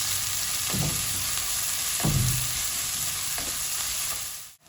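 Onions frying in white oil in a kadai wok; a continuous loud sizzle with two or three spatula scrapes and stirring thuds, cutting off abruptly at the end.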